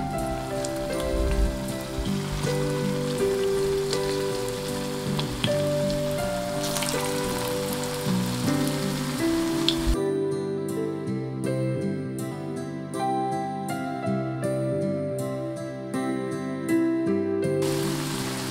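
Cabbage balls crackle and sizzle steadily in hot oil, a continuous spattering hiss with background music playing throughout.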